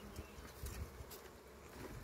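Bees in a hive tucked into a rock crevice make a steady, faint, close-up buzzing that holds for the whole stretch with no voices over it.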